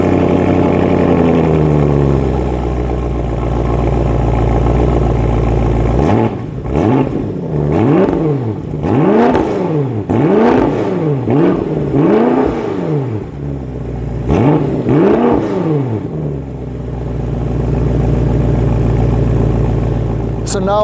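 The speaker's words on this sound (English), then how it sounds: "let's give this car a little bit of a rev so that you can hear this M6" A BMW M6 Gran Coupe fitted with M Performance exhaust pipes idles, then gets several sharp throttle blips that rise and fall in quick succession, loud and close, before settling back to a steady idle.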